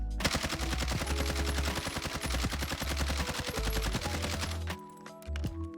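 An automatic weapon fires in the Warzone shooter game, a long sustained burst of rapid, evenly spaced shots that cuts off abruptly, followed by a brief quieter moment and a couple more shots.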